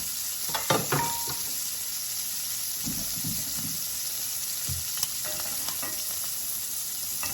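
Garlic sizzles in a heated stainless steel skillet, a steady bright frying hiss with a few light scrapes and stirring knocks, close and continuous with no talking.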